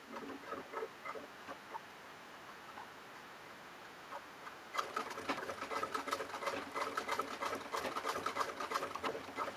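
Sewing machine running in a home sewing room: faint ticking at first, then from the midpoint a loud, steady, rapid stitching chatter that carries on to the end, close by and alone.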